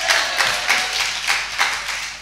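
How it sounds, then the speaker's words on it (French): An audience at a church service claps for a congregant, the claps coming in a few loose, uneven bursts at moderate level with no voices over them. "on applaudit Modeste"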